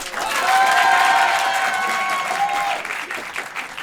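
A Paris improv audience gives loud applause as a vote, dense clapping mixed with whoops and cheers that build, hold, then thin out toward the end.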